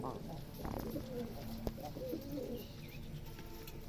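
Soft, low cooing from a black Huma pigeon with a grain of paddy stuck in its throat rises and falls over a steady background hiss, with a brief tap partway through.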